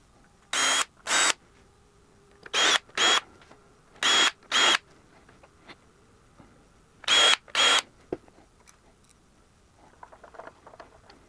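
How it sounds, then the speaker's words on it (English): A power drill with a centering bit drills screw holes in four paired bursts, each about a second long, with short pauses between pairs; close and crisp, followed by faint rattling. "I'm using a centering bit to drill out for the screws."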